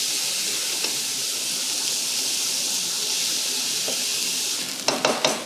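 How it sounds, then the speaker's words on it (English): Onions sizzle in oil in a pan for a vegan African stew, a steady soft hiss throughout with a few faint stirring clinks and scrapes near the end. "we've been cooking our onions for about 5 minutes"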